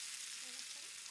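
Sweet corn paste sizzling gently in ghee over low heat, a steady, soft, hissing fry with no voices.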